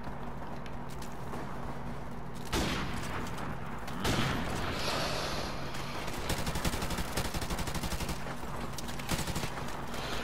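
Gunfire in Call of Duty: Modern Warfare Remastered multiplayer, including shotgun blasts: a few heavy bursts, then dense rapid shots that carry on for several seconds, loud and close.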